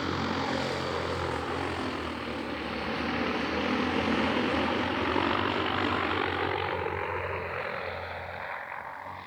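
DJI T100 and EAVision J150 agricultural spray drones, each loaded with about 70 liters, taking off on hilly terrain: a loud, steady propeller roar that swells and then slowly fades as they climb away.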